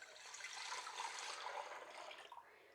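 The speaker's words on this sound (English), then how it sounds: "So you just pour that juice back in" Liquid from a chicken and vegetable soup pours steadily back into a cooking pot, a continuous close splashing trickle that fades out near the end, with no talking over it.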